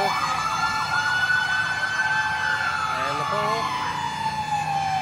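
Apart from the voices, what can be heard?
fire truck sirens arriving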